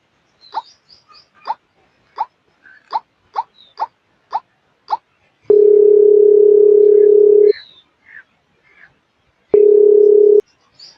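Telephone call failing to connect: a series of short blips, then two long, loud steady electronic tones separated by a gap, with faint chirping sounds between.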